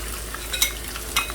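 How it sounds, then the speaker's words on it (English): Tofu frying in hot oil for a Guyanese-style veggie chow mein, a steady low sizzle with a couple of brief louder spits and crackles, heard alone without talk. "that's the tofu inside the oil now, frying"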